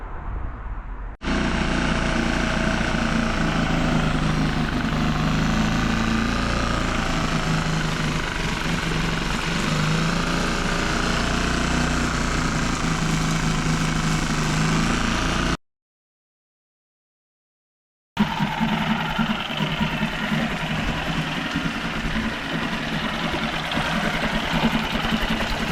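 Outboard motor running after a carburetor rebuild, a loud, steady drone that goes on for many seconds, cuts out briefly and then resumes just as steady, with no voices.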